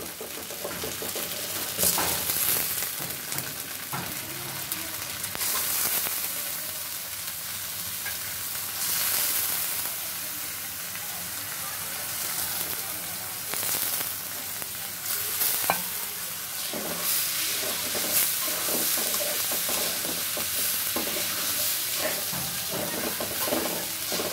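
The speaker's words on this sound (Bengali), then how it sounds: "দেখো আমার মশলাটা কষানো হয়ে গেছে। আমি এখন দিয়ে দিব ধুয়ে রাখা পোলাওর চাল আর মুগ ডাল।" Fried spice paste sizzles steadily in a pot as washed pulao rice and mung dal go in and are stirred for khichuri. The loud, continuous frying hiss is broken by repeated close scrapes of the stirring spoon.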